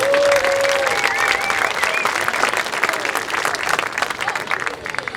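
An audience at a parent event for the Pride of Piqua Marching Band applauds the band members, a loud, sustained round of crowd clapping lasting about five seconds, with faint whistle-like tones near the start.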